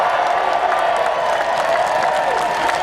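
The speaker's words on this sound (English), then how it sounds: "I want a big round of applause for our straight allies" A large outdoor rally crowd applauds in a dense, continuous wash of clapping mixed with faint cheering, steady and loud for the whole stretch.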